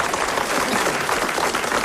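A studio audience applauds, a dense, even burst of clapping that is loud and close and fills the whole short moment without voices.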